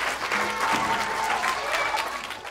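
A short stretch of lively clapping from an audience at a folk-tale storytelling show, many hands applauding steadily and fading slightly at the end.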